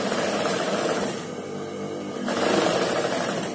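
Sewing machine running a continuous stitch along the inside edge of a shirt neckline, a steady close whirring hum that dips briefly and resumes.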